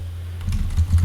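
A terminal command is typed on a computer keyboard: a short, quick burst of close keystrokes follows a brief quiet moment, with no voice.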